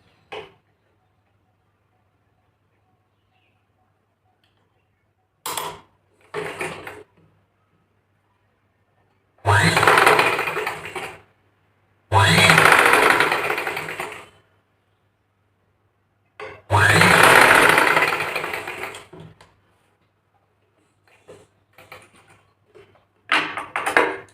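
A sewing machine stitching a folded strip on the back panel of a blouse runs in three loud bursts of several seconds each, with short clicks and handling noises between long silent stretches.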